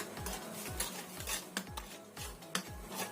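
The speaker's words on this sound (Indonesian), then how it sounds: "Kita aduk sampai rata." Flour, sugar and batter being stirred in a bowl with a utensil, giving repeated scraping strokes roughly twice a second with light clinks against the bowl, close and steady, with no talking.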